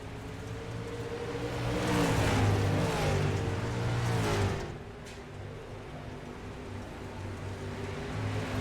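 Race cars at Weedsport Speedway roar past the start-finish line nose to tail, engines swelling loud then dropping away into a steady distant drone, with no voices.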